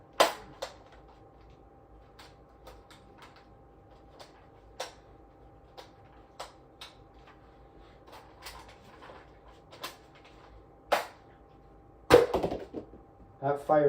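A Nerf Rival Mirage toy blaster firing several balls at once in a quiet room: a series of sharp, separate plastic clicks and snaps spread over several seconds, with a louder cluster of mechanical clacks near the end.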